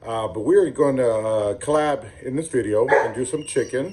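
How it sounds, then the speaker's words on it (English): A dog barks and whimpers in the background while someone talks steadily over it. "Sorry for the dog in the background."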